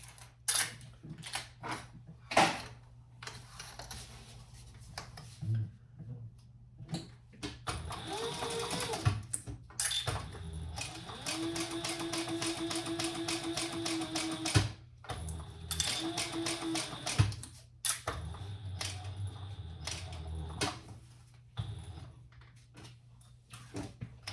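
A sewing machine stitches a seam on a crossbody bag, close by in quiet surroundings. Short whirring bursts are broken by clicks and handling noises, then longer steady runs of stitching.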